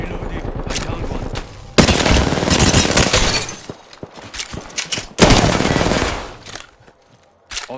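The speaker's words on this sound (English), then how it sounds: "The enemies are shooting at me." Loud bursts of automatic gunfire crack and rattle through an Apex Legends firefight, with dense rapid volleys, brief gaps and sharp single shots toward the end.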